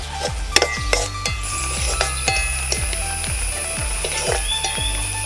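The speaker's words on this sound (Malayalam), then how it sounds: "ഇത് നന്നായിട്ട് നമുക്കൊന്ന് വഴറ്റിയെടുക്കാം" Onions sauté with salt in a pan over a steady soft sizzle. A spatula knocks and scrapes against the metal in a regular, close, rhythmic pattern.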